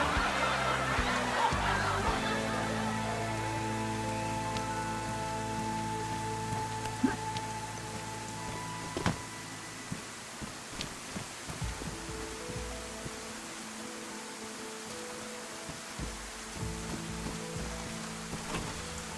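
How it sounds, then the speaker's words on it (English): Steady rain falls with a soft hiss in the game DayZ, scattered drops tapping on surfaces, faint and continuous throughout with no clear voices. "All this rain, it's really starting to get onto my nerves."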